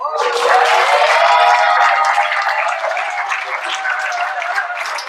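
An audience at a Disability Awareness Month event applauds Rosalind McFarland. A dense, loud wash of clapping swells quickly and holds steady with voices cheering through it, then eases slightly near the end.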